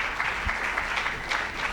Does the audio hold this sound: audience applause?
yes